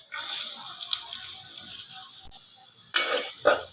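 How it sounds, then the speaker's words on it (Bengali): Chopped onion hits hot oil in a pan while cooking a fish-head muri ghonto, giving a loud, steady hiss with a few sharp crackles and stirring clicks near the end. "এখন দিয়ে দিব পরিমাণ মতো কুচি করা পেঁয়াজ।"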